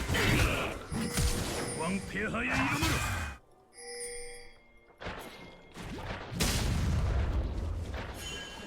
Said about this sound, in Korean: 한손에다가 대포도 날리고